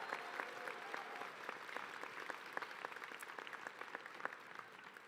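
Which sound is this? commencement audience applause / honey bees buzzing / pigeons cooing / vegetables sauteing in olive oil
commencement audience applause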